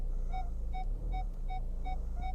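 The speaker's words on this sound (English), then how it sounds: "I'm just going to quickly test the parking sensors" Six evenly spaced electronic parking sensor beeps from a 2011 Ford Mondeo diesel in reverse, steady and moderately loud, over a low engine rumble, with no talking.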